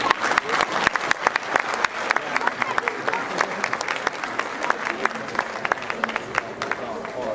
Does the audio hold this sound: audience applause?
yes